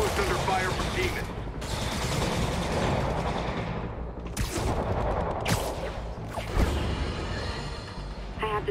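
Dense, sustained gunfire at a rooftop outpost in Marvel's Spider-Man Remastered: rapid overlapping shots and bursts, loud and continuous, with a few sharper cracks and whooshes layered through the barrage.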